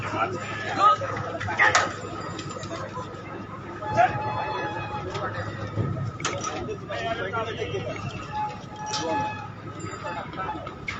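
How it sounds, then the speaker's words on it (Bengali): Pigeons gather overhead outdoors near water at sunset, giving low soft coos now and then over a busy background of ambient noise, with people's voices murmuring at times. "কত পায়রা এসছে, ওই যে সব ওপরে কত পায়রা"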